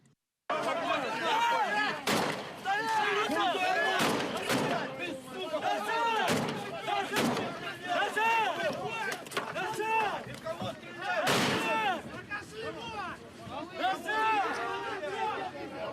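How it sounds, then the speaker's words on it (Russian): Gunfire cracks out during an attack by military men on the Asker public formation's headquarters, several sharp loud reports scattered across the scene amid agitated shouting and crowd chatter from many people. "но без стрельбы не обошлось."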